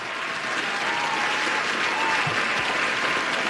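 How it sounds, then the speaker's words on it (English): Studio audience applause on a talk show, a dense, loud, steady wash of many hands clapping that stays even throughout, with no voices over it. "I think we need a little applause for that"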